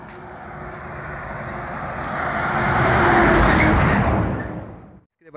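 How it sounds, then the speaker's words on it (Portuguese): A car on a bridge road in Milagres, Ceará, after heavy rain passes close by, its broad tire and engine roar swelling to a peak and then fading away quickly. "Carro ali de frente e outro aqui atrás."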